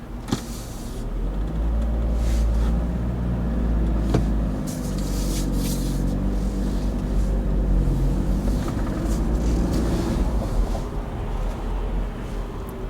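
Car pulling out of a car park during a driving lesson, with a steady low engine hum and road rumble running continuously and close, plus occasional faint clicks and knocks from inside the cabin.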